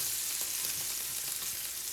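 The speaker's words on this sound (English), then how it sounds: "So it's frying up now." Strips of home-cured, nitrite-free bacon sizzle and spit steadily in a hot pan, a close, loud, continuous frying hiss with no voices.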